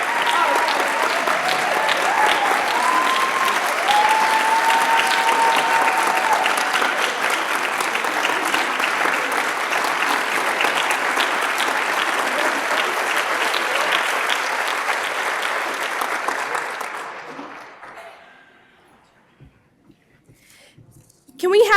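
Sustained applause from an audience at a school teacher-of-the-year awards ceremony, honoring a poetry team; a dense, steady wash of clapping with some speech over it, fading out near the end before a brief sound at the close.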